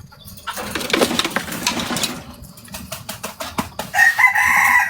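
A chicken clucks and crows nearby, with a rough engine-like drone running underneath and a brief louder call near the end.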